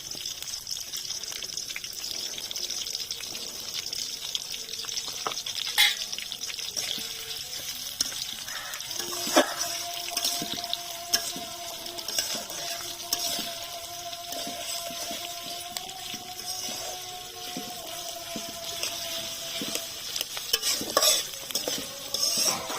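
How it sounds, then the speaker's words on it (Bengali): Sliced onions frying with whole spices in a pan for a duck bhuna, a steady close sizzle with scraping stirs and occasional clatter of a spatula throughout. "পেঁয়াজটা আমি ভেজে লাল করে দেব।"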